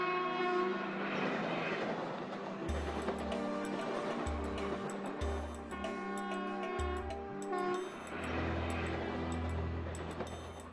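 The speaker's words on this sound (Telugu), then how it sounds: "ఈ రైలుని అనధికారికంగా క్యాన్సర్ ట్రైన్ అని పిలుస్తుంటారు." A passenger train running through Punjab rumbles steadily past, with a long, loud horn sounding in several blasts over the rolling rail noise.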